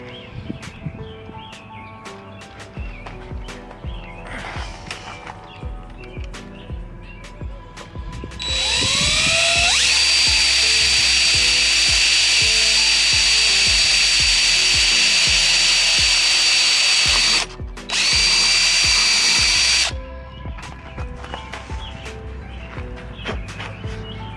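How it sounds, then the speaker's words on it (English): A power drill whines loudly for about ten seconds drilling a hole in a Dodge Charger Hellcat Duraflex bumper, with a brief pause near the end, preceded and followed by scattered clunks and handling noises. "let me drill this one hole and see how that goes"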